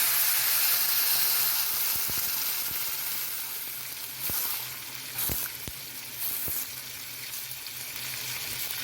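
Water poured into a hot pot of fluffy crystal rice sets off a steady frying sizzle with bubbling steam, joined by a few sharp clicks and knocks from the pot.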